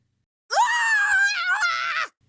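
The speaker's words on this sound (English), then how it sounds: "we scream!" A single sustained human scream, loud and close, rising sharply at the start and holding for about a second and a half before cutting off, with silence around it.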